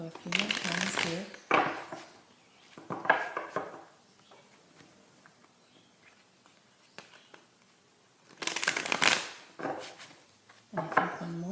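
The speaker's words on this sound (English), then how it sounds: "So I've already shuffled off camera, but we're going to go a few more times here." Bursts of card shuffling, a riffling flutter repeated several times with quiet pauses between, close and crisp.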